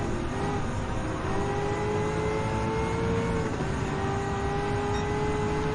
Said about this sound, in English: You're about to go revving up with a Dodge Charger